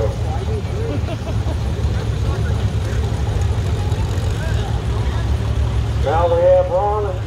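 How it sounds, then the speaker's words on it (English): A John Deere 70 diesel tractor drives in a farm club tractor parade, its low steady engine drone running throughout while people talk nearby. "old Jamie Harper, driving the John Deere 70 diesel"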